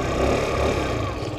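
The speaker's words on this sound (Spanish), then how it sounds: "Su ruido normal de moto." A 50cc four-stroke scooter engine idles steadily just after starting, a continuous low-pitched hum that stays fairly loud and even throughout, with no talking over it.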